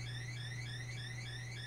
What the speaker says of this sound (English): this annoying beeping is not my favorite song